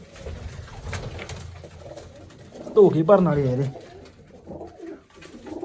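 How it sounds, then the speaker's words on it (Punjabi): Pigeons coo in low, throaty rolling calls close by, rising to a loud burst midway, while a person talks over them. "ਸਾਰੇ ਕਬੂਤਰ ਕਰਤੇ ਅੰਦਰ"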